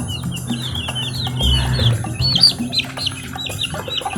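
Ten-day-old chicks chirp in a steady chorus of high peeping calls, close by, over a low background hum.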